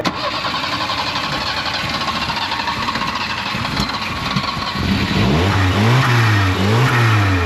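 A Volvo 242 Turbo, left sitting for about three weeks, cranks with a jump pack, then catches and fires into a loud, close engine that revs up and down in repeated rising and falling sweeps.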